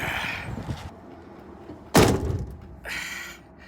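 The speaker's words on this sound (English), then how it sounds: "That's a car door." A single solid door of a CMC Tiffany car thunks shut nearby, a short sharp slam standing out from quiet background noise, with muffled rustling before and after.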